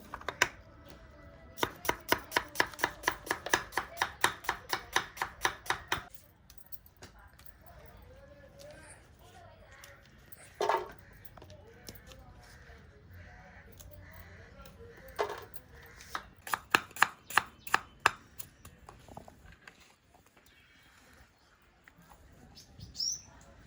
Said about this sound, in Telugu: ఎర్రగడ్డలను ఈ విధంగా సన్నగా పొడవుగా కోసుకుంటే మంచిగా ఏగుతాయి.